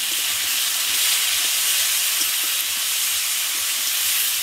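Oil poured into a pan of Sundarbans river crab curry (malaikari) hisses in a loud, steady broadband sizzle that holds without a break from start to finish, with no voices.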